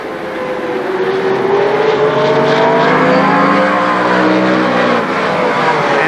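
Stock cars roar through turns one and two at Shadybowl Speedway, a loud, sustained engine drone rising and falling in pitch as the pack runs side by side, with no voices.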